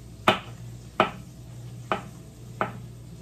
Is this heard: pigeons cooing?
no